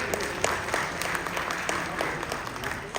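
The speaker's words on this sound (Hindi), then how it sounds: "तो मेरे बड़े भाई के लिए, गुड्डू भैया के लिए एक जोरदार ताली हो जाए।" Audience applause at a song launch event in Lucknow, a steady wash of clapping filling the room without a break and rising in a few brief louder swells.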